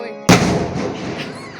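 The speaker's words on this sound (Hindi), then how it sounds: "वो पटाखा" A single sharp firecracker bang bursts out suddenly after a brief quiet, then its crackling echo trails off over the next second.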